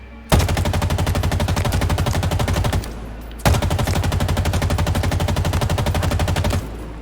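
Assault rifle in the Halo Infinite shooter fired in two long bursts of rapid automatic gunfire, each lasting about two and a half seconds, loud and close, separated by a brief pause.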